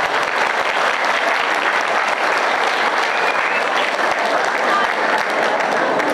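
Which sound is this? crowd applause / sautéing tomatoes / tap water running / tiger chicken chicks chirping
crowd applause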